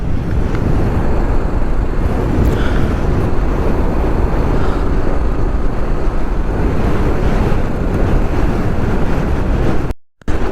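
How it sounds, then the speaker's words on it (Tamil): Strong wind buffets the microphone in a loud, constant low roar while riding a motorbike on the route to Leh, Ladakh, in a gale, with a brief dropout near the end. "பயங்கரமாக காற்றடிக்குதுங்க."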